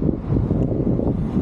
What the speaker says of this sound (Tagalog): Medyo lumakas yung hangin,